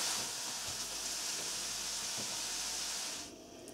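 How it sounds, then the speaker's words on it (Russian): Mushrooms and onions fry in vegetable oil in a pan, a steady soft sizzling hiss that drops away sharply near the end, with no talking. "Жарим грибочки с луком до готовности на растительном масле."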